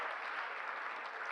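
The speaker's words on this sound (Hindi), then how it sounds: "एक बार तालियां बजाओ जरा जोरदार" A live comedy-show audience applauds, a dense, steady patter of many clapping hands heard close and continuous for the whole short stretch.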